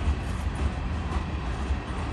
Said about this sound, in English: how fun it is to watch the trains go by